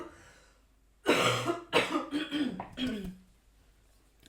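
A single harsh cough bursts out close to the mic, followed by a few rougher throat-clearing hacks over about two seconds, then quiet room tone.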